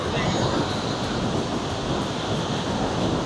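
Niagara Falls roars as a dense, steady wash of rushing water heard from close by, broadband and unbroken for the whole stretch, with some wind buffeting against the microphone.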